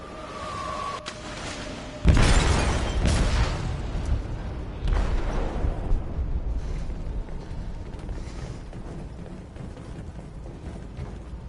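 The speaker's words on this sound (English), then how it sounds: "They detonated an explosive in the hold." An explosive detonating in a ship's hold in the game Detroit: a deep booming blast hits abruptly, followed by a long rumbling, crackling roar and secondary bursts that slowly fade, with no talk over it.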